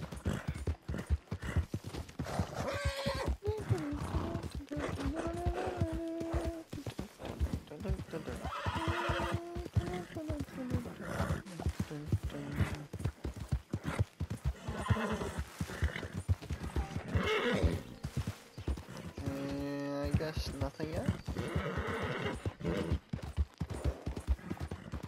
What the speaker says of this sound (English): We shall keep riding horse Morty.